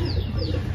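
Pet pigeons coo softly and continuously in a home setting, a low murmuring warble heard close by without talk.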